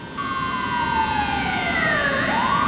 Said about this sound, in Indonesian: Ini udah ambulan kedua kali.